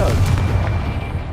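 A Confringo spell blast in Hogwarts Legacy lands as a loud, close booming explosion that rumbles and decays over about a second.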